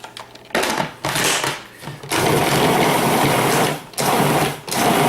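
A food processor pulses butter and cream cheese in short, loud whirring bursts separated by brief pauses, the last bursts running longer.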